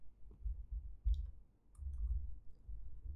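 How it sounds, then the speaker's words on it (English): A few light mouse or keyboard clicks from a computer during a cut-and-paste, sparse and faint over a low background hum. "So I will just do a cut and paste here."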